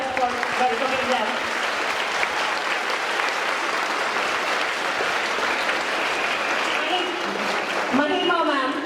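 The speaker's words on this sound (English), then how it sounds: "Give a big round of applause together for welcoming them." Audience at a school assembly applauding, a dense steady clatter of many hands clapping for several seconds, with faint voices underneath that fade as the clapping ends.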